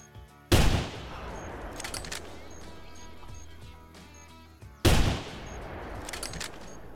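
Two loud rifle shots crack out several seconds apart while hunting in the video game The Hunter Classic, each followed by a short echoing tail over a quiet game background.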